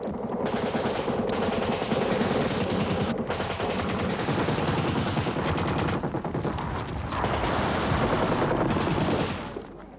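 Heavy machine gun fire in a World War II battle scene from the Battle of Crete, a dense, continuous roar of rapid bursts lasting the whole stretch with barely a break, loud and close, no voices.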